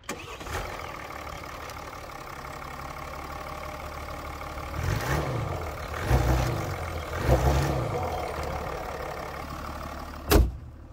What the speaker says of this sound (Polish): Nawet na zewnątrz przegazówki nie dają mocno poznać, że jest to diesel.